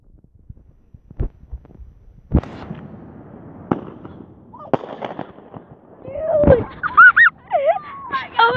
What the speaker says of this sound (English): This one you light in a tube, and then, like, it goes high sky.